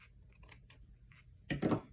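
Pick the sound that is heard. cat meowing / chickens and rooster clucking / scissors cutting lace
scissors cutting lace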